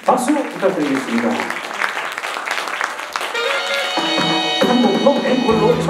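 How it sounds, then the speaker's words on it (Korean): An audience at a community care results-report event applauds, sustained clapping that builds and grows denser, with a voice over it early on and music entering partway through. "박수 부탁드리겠습니다"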